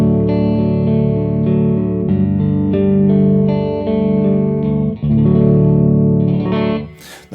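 A 1952 Harmony Stratotone H44 electric guitar on its lead circuit with only the tone knob engaged, playing sustained chords and notes loudly and alone, with a brief scrape or handling noise at the end.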